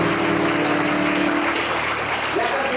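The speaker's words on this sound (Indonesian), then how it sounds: "Boleh tepuk tangan yang banyak" Church congregation claps loudly and continuously during a testimony service, the applause layered over a sustained electronic hum or keyboard tone.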